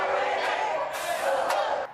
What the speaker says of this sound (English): The crowd marched outside the terminal for about 30 minutes.